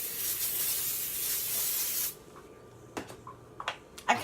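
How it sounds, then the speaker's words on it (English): Baking spray hisses onto a pan in one continuous burst of about two seconds, close and fairly loud, then stops, leaving a few small clicks and handling noises. "now I'll be spraying the pan with some baking spray just to grease it"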